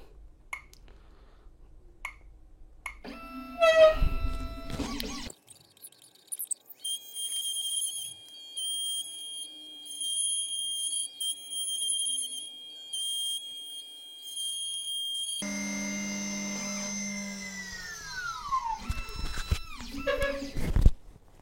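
A key cutting machine cuts the second side of a key, a high whining grind with sharp metallic tones that runs steadily for about ten seconds, framed by quieter clicks and handling of the clamp.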